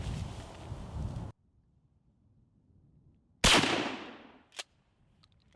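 Mossberg 590 SBS short-barreled shotgun fired outdoors in wind: one sharp, loud blast with a decaying echo, followed by a fainter crack, with wind rustle before the shot.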